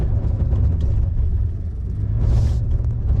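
A 2022 Nissan Frontier Pro-4X runs off road with traction control switched off, its engine holding a steady low rumble near 2,500 RPM as the wheels spin, with a brief hissing burst partway through.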